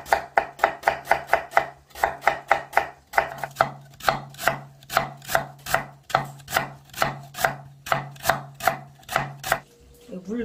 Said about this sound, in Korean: 자, 썰어볼게.